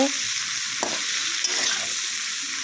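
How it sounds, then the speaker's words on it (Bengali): Chopped eggplant, potato, onion and green chilli frying in hot oil in a wok, a loud, steady sizzle with faint stirring scrapes throughout. "তেলটা গরম হয়ে যাওয়ার পর বেগুন আলু বেগুন পেঁয়াজ কাঁচা লঙ্কা কেটে রাখাগুলো এখন কড়াইয়ের মধ্যে ঢেলে দেওয়া হয়েছে"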